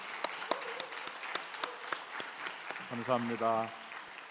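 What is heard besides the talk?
audience applause after choir performance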